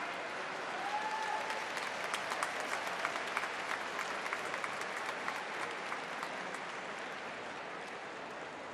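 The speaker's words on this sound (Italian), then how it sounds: "Un applauso all'orchestra!" A large crowd applauds an orchestra steadily at Pope Francis's event in Verona, a dense wash of clapping heard from a distance that holds evenly throughout.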